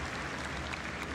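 Audience at a CitCon convention gathering clapping steadily through the whole moment, a dense, even patter of hands without pauses or voices rising above it.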